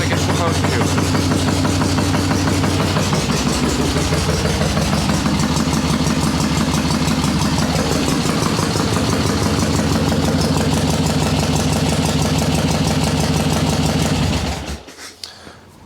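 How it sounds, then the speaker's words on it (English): A swap meet chopper motorcycle running on choke after carburetor adjustments: a steady, loud, rapid engine chug close by that holds throughout, its pitch shifting slightly, then cuts off abruptly near the end. "With a dry set of plugs, it fires up in 2 kicks like it's supposed to."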